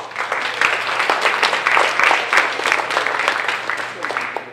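An audience applauds at a 40th anniversary Italian exchange celebration, sustained clapping from many hands holding steady and fairly loud for several seconds with a faint steady hum beneath.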